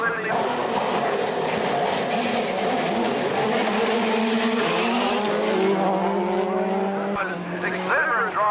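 Rally cars on a night special stage at Rally New Zealand 2000, engines revving loud and continuous with shifting pitch as they pass near the start-finish line, commentator talking over the noise throughout.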